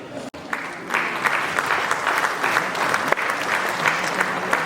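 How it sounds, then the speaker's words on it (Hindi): Audience applause at an award ceremony in a Patna auditorium, a steady wash of clapping from a large crowd that holds loud and even for several seconds. "अरे तालियां बजाइए"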